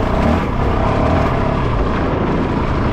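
Honda CRF450RL dirt bike chugging along in first gear on single-track through fields, a steady loud low engine drone throughout with no break.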